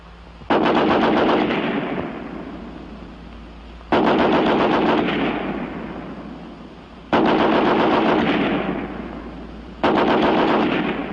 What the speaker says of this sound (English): In this test, each weapon will fire 30 rounds. First, the American Light 30 on the bipod.